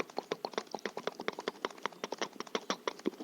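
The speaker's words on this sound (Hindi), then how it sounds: "चल मेरे घोड़े, टुक टुक टुक टुक।" Horse hooves clip-clop steadily in a western gunfighter video game, a quick, even run of sharp hoof taps carrying on for several seconds without a break, close and clear, with no other sounds over them.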